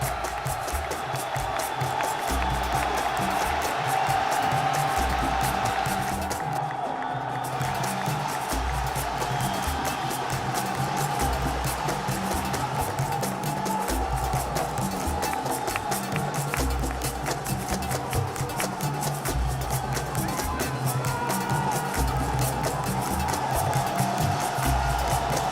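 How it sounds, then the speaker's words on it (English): A large arena crowd at the Dota 2 Lima Major esports event roars for Evil Geniuses in a sustained, dense, deafening wall of cheering and noise that holds steady throughout. "It's time to hear the crowd for Evil Geniuses."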